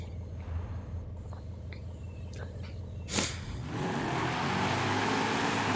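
Muscle cars, including a Magnum, Corvette and Challenger, race in Forza Horizon; a steady engine drone with a sharp whoosh midway, then a louder, sustained roar of revving engines.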